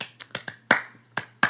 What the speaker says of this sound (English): I'm going to clap to denote the segment of words